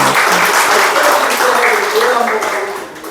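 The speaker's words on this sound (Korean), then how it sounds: "우리 박수 한번 하겠습니다" A church congregation in a Korean service claps loudly and steadily to welcome first-time visitors, the applause fading slightly at the end while voices speak over it.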